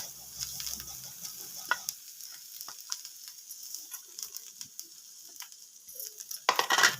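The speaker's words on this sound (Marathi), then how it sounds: "अजून खोबरा टाकला ना तव्यावरती" Grated coconut roasts on a tava over a wood-fired clay stove, with a gentle sizzle and frequent scraping, stirring strokes close by. The sound grows busier and louder at the very end.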